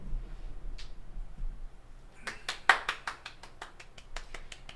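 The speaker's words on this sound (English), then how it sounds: "Round of applause to AJ, he's no longer with us" Sharp claps in a steady, evenly spaced rhythm, like a single person clapping, come in halfway through after a quiet stretch and carry on to the end at moderate volume.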